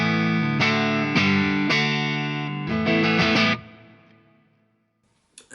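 A Reeves Electro Zonk fuzz pedal drives an electric guitar on its neck pickup through a plate reverb, playing a run of distorted chords with a warm, rounded tone, several strummed hits in rhythm before ringing out and fading to silence.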